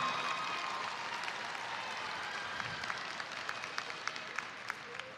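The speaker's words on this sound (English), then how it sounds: "please give your parents, grandparents, aunts, uncles, friends, teachers a round of applause" Applause for parents and family at a high school graduation ceremony, a broad wash of clapping from a large crowd in a hall, heard at a distance, with a few sharper claps standing out toward the end.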